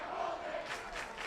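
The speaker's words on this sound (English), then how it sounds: "you can hear the Central Catholic down below. Central Catholic student section coming alive." A high school student section cheering at a Central Catholic versus Jesuit football game, distant crowd shouts and yells rising in short bursts.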